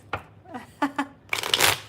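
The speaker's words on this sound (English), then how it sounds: "I already started shuffling this one." Tarot cards riffle-shuffled by hand, a few short soft flicks followed by a louder, dense burst of rapid card slaps near the end, close and clear with no talking.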